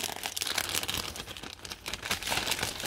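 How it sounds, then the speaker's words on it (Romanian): A small plastic pouch is torn open and crinkled while unboxing an Avon lavender diffuser, with steady close rustling and no voices. "Așa de bine am deschis, încât am reușit să și rup punguța."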